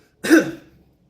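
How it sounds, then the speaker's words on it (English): A single short, close throat clearing from one person, a sharp rasp that fades within about half a second, then silence. "I just cleared my throat"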